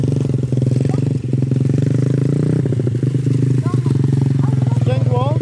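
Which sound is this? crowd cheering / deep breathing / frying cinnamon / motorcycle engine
motorcycle engine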